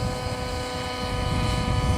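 An RC helicopter flies inverted during 3D aerobatic practice, its rotor and motor giving a steady, fairly close whine and buzz that swells slightly.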